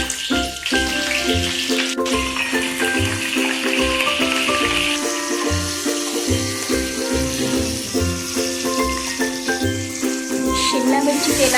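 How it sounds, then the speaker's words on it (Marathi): Capsicum fries in hot oil after a cumin and mustard seed tempering, giving a steady loud sizzle that runs without a break, with background music layered over it. "जिरे मोहरीचा तडका झाल्यानंतर ढोबळी मिरची टाकून घ्यायची."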